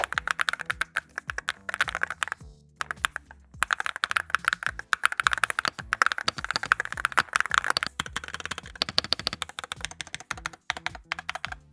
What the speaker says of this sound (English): Let's dive into a sound test and hear how the aluminum case and all of the materials they chose sound